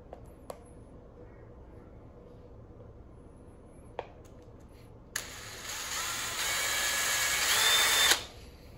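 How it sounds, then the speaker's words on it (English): Electric drill boring a 12 mm hole through the body of a Bird 3 electric scooter, a loud steady whine that starts abruptly after a few faint clicks and runs about three seconds before cutting off, with no talking. "Now we're just gonna drill all the way across because it's 12 millimeters anyways"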